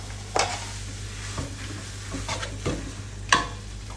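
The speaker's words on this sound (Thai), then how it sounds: "เดี๋ยวน่าจะตักใส่จานให้ดูนะคะ" Stir-fried glass noodles with pork belly and bamboo shoots scooped from a pan onto a plate: a few scattered scrapes and clinks of a utensil over a low sizzle, close and fairly quiet.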